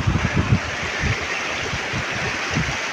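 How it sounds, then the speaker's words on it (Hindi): A small mountain stream near a Kashmir glacier rushes steadily in the cold, a dense broadband wash of flowing water with low rumbling gurgles, loud and close, with no voices. "ये थोड़ा सा हमें रास्ते में ही आया है ये नाला"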